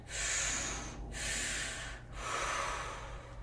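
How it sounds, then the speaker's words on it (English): Three strong breaths in an activated breathwork style, each a forceful belly-then-chest inhale followed by an exhale, up close and loud, with short gaps between them and no talking. "That's the more activated style breath."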